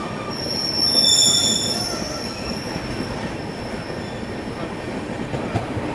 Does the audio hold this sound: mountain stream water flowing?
no